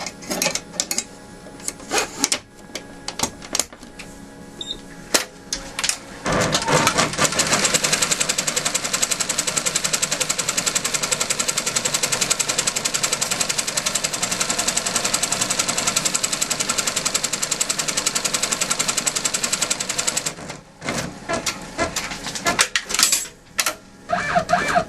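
A sewing machine stitches fabric for a crazy quilt block, running in one long, loud, steady burst of rapid mechanical clatter after a few seconds of small handling knocks, then stopping abruptly into light rustling and taps.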